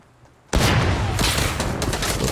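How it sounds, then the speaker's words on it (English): Gunfire in the video game Fortnite, played on a Surface Pro 6, erupts suddenly after a quiet moment into a dense, continuous burst of loud shots and booms that carries on to the end. "So I'm getting shot at."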